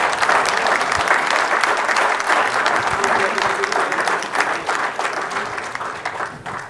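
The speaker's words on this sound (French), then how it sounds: "On peut l'applaudir" Crowd at a discus fish beauty show competition in France clapping for a prize winner, a continuous, lively round of applause with a voice speaking faintly underneath.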